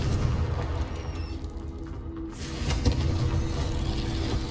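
A Confringo blasting spell going off in a Harry Potter video game, a deep booming explosion swelling after a short lull, with low rumbling before and after.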